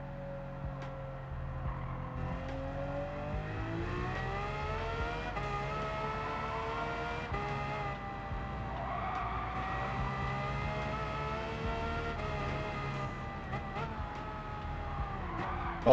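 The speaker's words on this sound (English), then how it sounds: "let's drive the Aventador for a little bit" A Lamborghini Aventador street car in a racing video game, driven on the Nordschleife, holds a steady engine drone with rising and falling harmonics as the revs climb and ease through gear changes, loud and continuous throughout.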